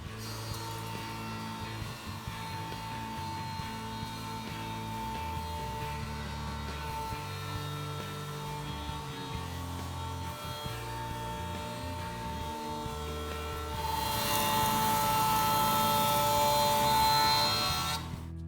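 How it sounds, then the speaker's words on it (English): A woodworking jointer's motor hums steadily while planing the edge of a rough sawn wooden board, rising to a louder, denser roar near the end as the board passes over the cutter. "I'm going to run that through the jointer now and do this edge first."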